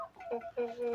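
Barnyard chickens with a large rooster, a brief burst of soft clucking calls, faint and close, over in about a second.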